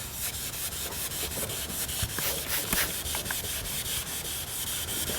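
Car paint is wet sanded by hand with a sanding block, making a close, rhythmic scrubbing in steady back-and-forth strokes that carries on without a break and with no voices.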